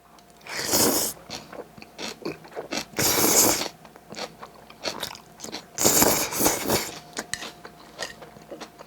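Jajang ramen being eaten, with crunchy bites, slurps and chewing in close, intermittent bursts and no talking.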